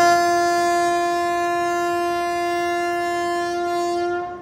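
The Tirupati-Villupuram Express sounds one long, loud, steady horn blast at Tirupati railway station, holding for about four seconds before cutting off.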